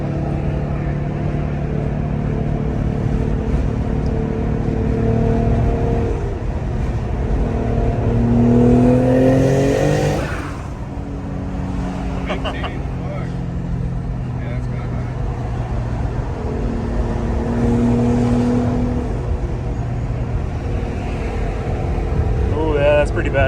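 Twin-turbo Infiniti G35 with very high mileage pulls hard under about 14 psi of boost, its engine note rising steadily in two strong surges from inside the car, with people talking over the drone.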